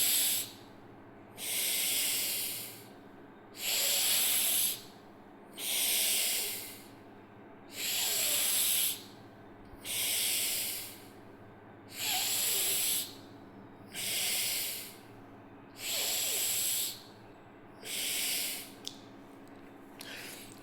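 Slow, steady breathing during a relaxation breathing exercise, about nine long airy inhale-exhale cycles heard close and alone, each breath a soft hiss separated by brief pauses.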